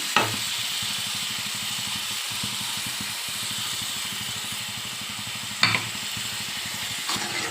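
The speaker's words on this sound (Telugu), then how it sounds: "ఇప్పుడు టమాటా మిక్సీ పట్టు పెట్టుకున్నానండి, అది కూడా వేసేస్తున్నాను." Blended tomato goes into a hot pan and sizzles steadily as it is stirred. Rhythmic spoon scrapes run through the frying hiss, and a couple of louder clatters break in.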